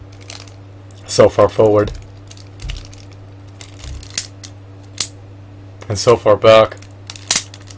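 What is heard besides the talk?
ratchet joints of Buster Blader action figure clicking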